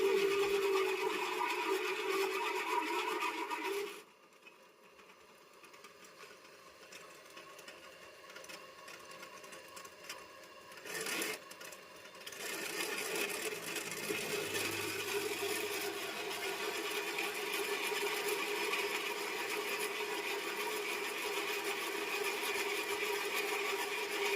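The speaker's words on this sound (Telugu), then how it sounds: "బెజ్జాలు అనేది తొందరగా పడతలేదు అందుకనే కొంచెం బలవంతంగా అయితే వేయాల్సి వస్తుంది" Holes are forced into new steel plough points with a drill, giving a steady high whining motor drone. It drops away for several seconds partway through, then returns and runs continuously to the end.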